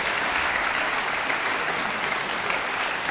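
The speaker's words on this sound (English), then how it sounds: "On applaudit nos panélistes, mesdames et messieurs." An audience at a Montreal violin event applauds its panelists with dense, continuous clapping that stays loud and even for several seconds, with no speech heard over it.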